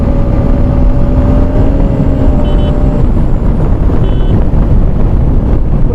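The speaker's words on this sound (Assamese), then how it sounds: "ইয়াৰ পৰা ৰাস্তাটো একদম বঢ়িয়া স্মুথ হয়, তাৰ কাৰণে বাইকখন চলায়ো মজা লাগে" A motorbike rides along a smooth road, its engine drone blending with heavy wind buffeting the microphone, loud and steady throughout with a faint faint high tone now and then.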